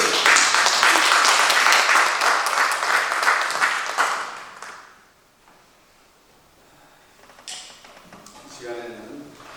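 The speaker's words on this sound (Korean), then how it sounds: "우리 다 같이 목사님한테 감사합니다 하면서 박수 좀 크게 주세요" A church congregation at a Korean prayer service applauds to thank the pastor, with dense, loud clapping for several seconds that fades out. Scattered shuffling and faint voices follow.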